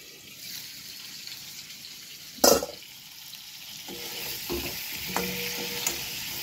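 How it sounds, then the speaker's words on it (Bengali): Food frying and being stirred in a pan on a home stove, with a steady sizzle underneath and a sharp scrape or clatter near the middle, followed by several lighter clinks of the spoon against the pot. "ওদিকে আবার রান্না বসিয়ে দিয়ে এবার পুরে ঠুরে যাবে"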